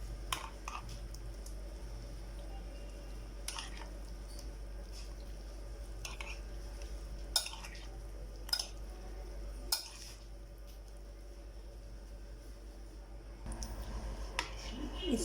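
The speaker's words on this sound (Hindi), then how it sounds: "अब हम दही लेंगे और दही इसमें शामिल कर देंगे। इसको हम अच्छी तरह मिक्स कर लेंगे।" Curd being stirred into vegetable raita in a bowl, a soft wet squish with light clicks and taps of a spoon against the bowl, close and quiet with no voices.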